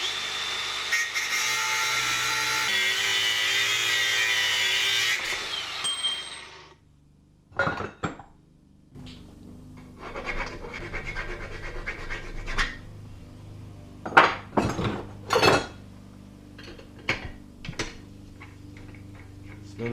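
A cutting disc slices through threaded rod clamped in a vise, giving a loud, continuous grinding roar for several seconds, then silence, followed by scattered scraping and clanking of metal parts.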